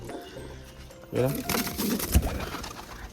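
A pigeon coos in a loft, a short, low, throaty call heard near and partly under a person talking, against a faint background hum.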